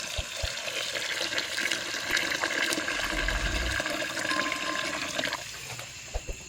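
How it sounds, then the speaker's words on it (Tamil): Water pours steadily into a pot of black country chicken soup seasoned with turmeric, a continuous close splashing and trickling that fills most of the few seconds before tapering off near the end, with no talk. "இப்போ தண்ணி சேர்த்துக்கலாங்க."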